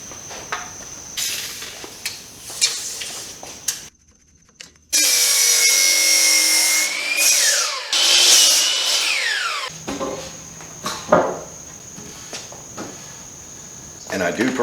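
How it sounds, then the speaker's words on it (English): A power saw cuts treated lumber into six-foot pieces for a DIY chicken coop. One loud cut of about five seconds rises and dips in pitch, with quieter handling knocks and clatter on either side. "The first thing I'm going to do is cut the treated lumber"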